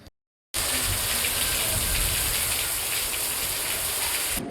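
Rain pours down in a dense, steady, loud rush after a brief silent gap at the start, continuing unbroken with no talk.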